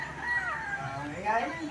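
Chickens in a backyard garden cluck and cackle in short rising calls, fairly near, with soft background noise and a voice speaking.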